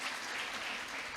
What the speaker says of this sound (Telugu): క్లాప్స్ కొట్టాలి మీరు.